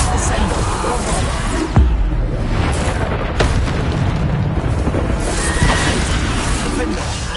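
Repeated Bombarda spell explosions in the Hogwarts Legacy video game, dense booming blasts and bursts layered over constant loud combat noise, with a sharp hit near the start and more impacts after.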